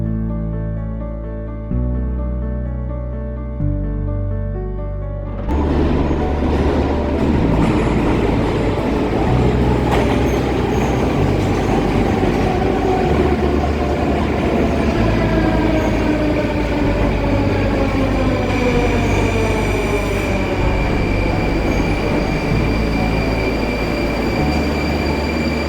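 A Moscow metro train in motion, heard from inside the car: a steady, loud rumble of wheels and motor with rising and falling whine and squeal, continuous throughout, with no talk.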